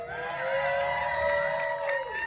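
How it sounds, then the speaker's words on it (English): A May Day rally crowd cheers and whoops outdoors, a swelling wash of voices with sustained shouts and tonal cries that rise and then fade after about two seconds. "Round of applause for that."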